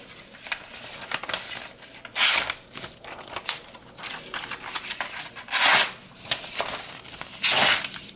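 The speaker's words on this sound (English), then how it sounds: "I'll do a quick cut test for you to show out of the box sharpness." A Lightning OTF automatic knife slices through paper in a cut test, producing crisp tearing and crinkling swipes, several sharper loud rips among softer rustles, close up and without talking.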